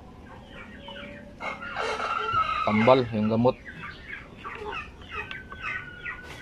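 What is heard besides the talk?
chickens clucking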